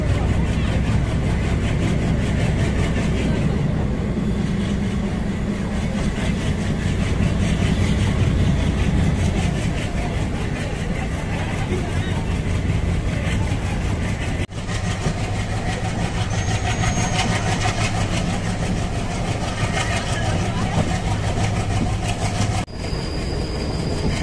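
A train runs on the Adhirampattinam line after 16 years, a long continuous roll of engine rumble and clattering wheels on rails, loud and close throughout with a couple of sharp clanks along the way.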